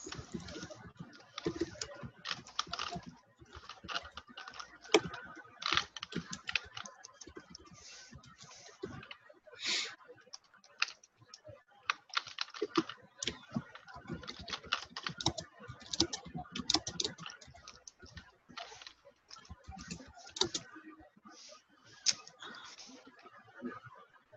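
Steady typing on a computer keyboard, rapid irregular keystrokes in bursts with short pauses, close and fairly quiet.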